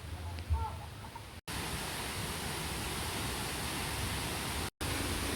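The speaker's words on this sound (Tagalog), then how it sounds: "Nandito tayo sa Mantayupan Falls mga kalibot suroy." Mantayupan Falls roars as a steady, dense wash of falling water, loud and close, with brief cuts in the sound and a faint voice at the start.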